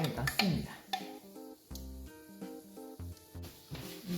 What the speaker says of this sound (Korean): 이렇게 양념장을 넣고 약한 불로 볶아줍니다.